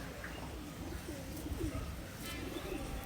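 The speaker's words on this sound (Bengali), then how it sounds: "জোড়া সহকারে দেখুন কবুতরের ফেস ফেসার দুটি খুবই মানসম্মত কবুতর" A pair of Indian imported Madrasi pigeons gives soft, low, rolling coos, faint and close, repeating through the short stretch.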